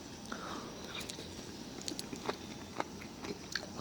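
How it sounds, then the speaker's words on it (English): Someone bites into crispy country fried steak with gravy at a Cracker Barrel breakfast, a few close, soft crunches and chewing sounds over quiet restaurant background. "You hear the crunch?"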